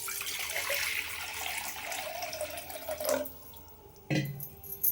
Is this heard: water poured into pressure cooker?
yes